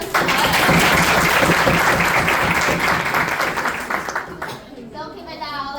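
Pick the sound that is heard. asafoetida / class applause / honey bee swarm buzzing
class applause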